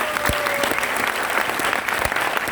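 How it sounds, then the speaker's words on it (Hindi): Audience at an AWPL success event in Jaipur breaks into loud, dense applause, steady clapping from a large crowd filling the whole moment with no speech over it. "आप लोगों की एक बार जोरदार तालियां हो जाए।"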